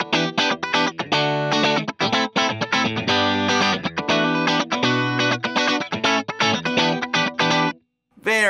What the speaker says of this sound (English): this is the sound of just the guitar going into the 2-amp